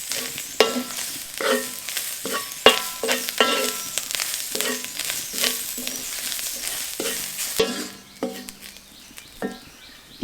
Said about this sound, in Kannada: ಇದರಲ್ಲಿ ಹಸಿ ತೆಂಗಿನಕಾಯಿಯ ತುರಿಯನ್ನು ನಾನು ಹುರಿದುಕೊಳ್ತೀನಿ.